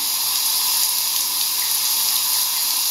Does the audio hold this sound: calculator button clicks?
no